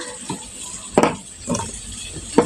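Pieces of ginger and four green chilies drop into hot frying oil in a pan for a light fish curry. Three short crackling bursts of sizzle sound close, separated by quieter gaps with no talk.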